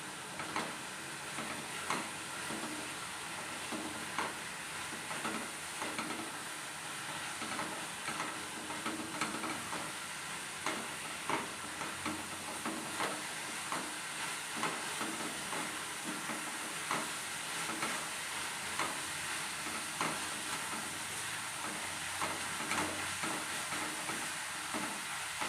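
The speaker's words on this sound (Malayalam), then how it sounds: "നമുക്കൊന്ന് ഇളക്കി കൊടുക്കാം കേട്ടോ." Kerala-style tapioca (kappa) biriyani frying in a pan and being stirred, with a quiet, steady sizzle broken by repeated soft scraping taps of the stirring.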